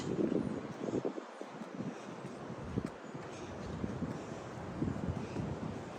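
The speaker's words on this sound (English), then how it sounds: "It's windy." Gusty wind rumbles and buffets against the microphone, with a rustling hiss and no talking.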